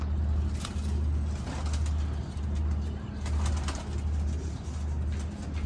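Pigeons or doves kept for sale coo softly and repeatedly in a low, steady murmur, with a continuous hum of passing road traffic in the background.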